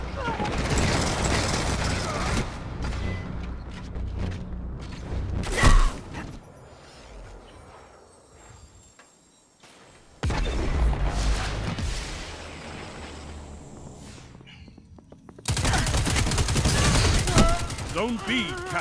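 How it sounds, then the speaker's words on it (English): Gunfire in a Destiny 2 Control match: dense bursts of automatic shots and explosive booms fill the first and last stretches, with a quieter lull in the middle. A voice speaks over part of it. "This round, I'm actually going to hit people with the gun."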